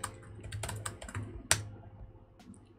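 Keystrokes on a computer keyboard, typed in short uneven bursts with a couple of sharper, louder taps, close up over a low steady hum.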